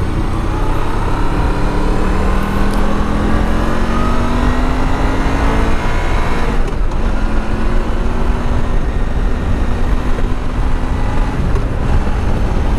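A 2002 Honda VFR800 motorcycle engine revving on a road ride, loud and close, with a steady mid-pitched drone and rising, falling pitch sweeps under constant wind rush.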